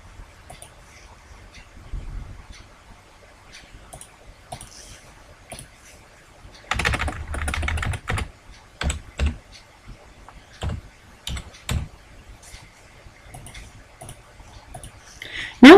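Someone types a formula on a computer keyboard in a quiet room, a run of scattered key clicks and a short dense burst of rapid typing near the middle, with no talk.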